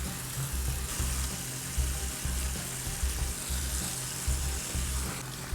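Cold water runs from a tap in a constant hiss over hair being rinsed after dyeing, close and fairly quiet, with a low rhythmic thumping underneath and nobody talking.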